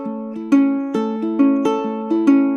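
Ukulele strings ring out in a steady, even Travis picking pattern, bass notes alternating with higher notes, clear and close with no voices.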